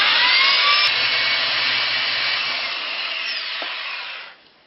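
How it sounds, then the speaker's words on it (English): A power drill drilling pilot holes to mount a bracket for a reverse osmosis system whines steadily at close range for about four seconds, pitch sliding slightly as it bores, then spins down and stops. "now I'm going to just drill some tap holes."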